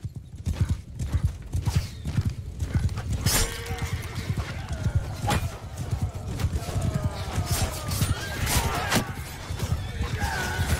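Horse hooves pounding and clip-clopping in the video game Mount & Blade II Bannerlord, a dense galloping rhythm from many mounts with occasional whinnies, steady and close throughout.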